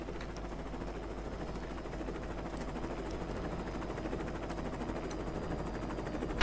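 A helicopter circling over a village in the game Operation Flashpoint, a steady droning rotor thrum that holds at an even, fairly loud level throughout, with no talking.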